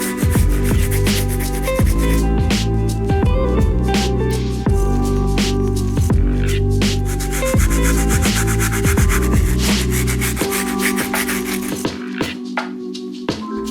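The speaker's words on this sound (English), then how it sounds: "Our stiff bristle brush is your best bet at getting that clean." A stiff bristle brush scrubs the boost sole of an Adidas Yeezy 350 sneaker, making loud, close, rhythmic back-and-forth rasping strokes that continue steadily.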